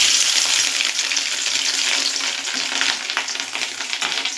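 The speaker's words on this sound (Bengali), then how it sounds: "আমি চামচ দিয়ে এটাকে তুলে তুলে ভাজবো, মানে তেলের মধ্যে ছাড়বো" Spoonfuls of fish roe batter dropped into hot oil for a fish roe kalia fry with a loud, dense, continuous crackling sizzle, close up and steady throughout.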